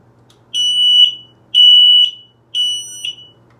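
An X-Sense mini smoke alarm sounds during a test-button press, giving three loud, piercing electronic beeps in an even rhythm, each about half a second long, close by in a quiet room.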